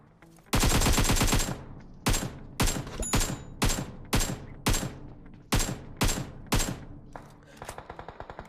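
A gunfight in the mobile game PUBG Mobile. A long automatic burst is followed by a series of short rapid bursts, loud and sharp with brief gaps between them, and fainter shots trail off at the end.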